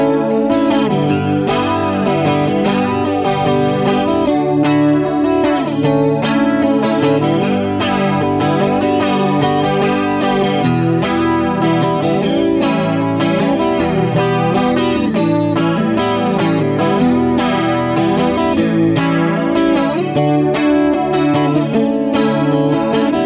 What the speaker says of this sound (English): My basic kind of chorus sound?